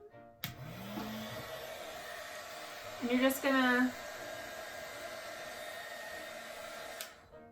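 Hair dryer blowing hot air onto a picture for a DIY gift, a steady close whooshing roar that switches on and runs under brief speech.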